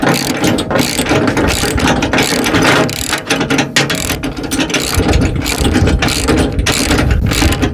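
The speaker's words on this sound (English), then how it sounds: "So now I guess all I need to do is tighten all these bolts down." Ratchet wrench cranking bolts tight on hook backing plates, a loud, continuous rapid clicking of the pawl that runs without a break from start to finish, close up.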